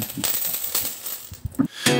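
Coins clink and rattle as they are handled and dropped, with a few sharp metallic hits over about two seconds, close by with no talk.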